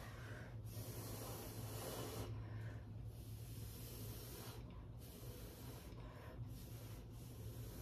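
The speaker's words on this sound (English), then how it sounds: "Now I'm just going to blow that to make it a little more natural." Breath blown steadily across wet acrylic paint on a canvas, a soft continuous airy hiss with brief gaps between puffs, close and fairly quiet.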